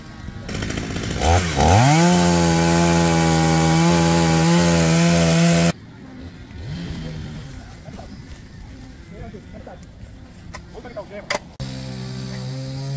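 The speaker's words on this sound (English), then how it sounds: "Koos there busy with the chainsaw" A chainsaw cutting wood during yard cleanup, loud and close, revving with a steady high whine that strains and bogs as it bites, then cuts off abruptly; later a second, quieter saw burst and scattered work noises follow.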